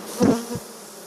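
Bees buzz in an open spring lying-type beehive during brood-frame expansion, two short close bursts of wing hum, the first louder than the second, over a quiet background.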